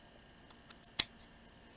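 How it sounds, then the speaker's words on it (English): Scissors cut paper for a handmade Christmas craft card, giving a few quick, crisp snips up close, one louder than the rest, in a quiet room. "then we're going to cut it"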